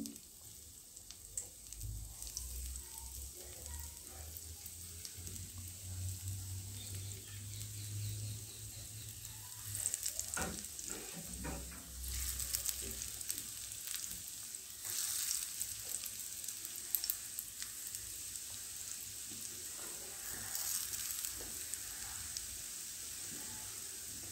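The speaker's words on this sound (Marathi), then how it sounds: "एक एक वड्या अशा तळून घ्यायचं आहे" Coriander vadas (kothimbir vade) deep-frying one by one in hot oil, a steady close bubbling sizzle with occasional crackles and faint soft taps, no talking.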